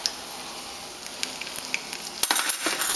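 Panko-breaded food sizzles in hot oil, a steady close crackle that bursts into louder spitting and popping as pieces drop into the pan.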